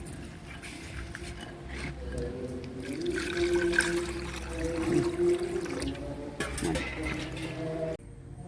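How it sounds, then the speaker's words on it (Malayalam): Water runs and splashes steadily as fish is rinsed and rubbed by hand, with occasional clinks, before the flow cuts off abruptly. "ഉരച്ച് നന്നായിട്ട് വെള്ളം തെളിയണവരെ കഴുകി പരഞ്ഞ് പൊരിക്കണം"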